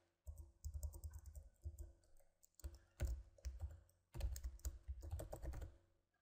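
Keys on a computer keyboard clatter in quick bursts of rapid typing separated by short pauses, close and fairly quiet, with no talking.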